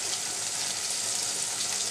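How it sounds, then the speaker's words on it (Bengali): Raw taro stolons (kochur loti) sizzling in hot oil, a steady, dense frying hiss with no pauses, close and even throughout. "আমি এখন কাঁচা অবস্থায় তেলের মধ্যে ভেজে নিচ্ছি।"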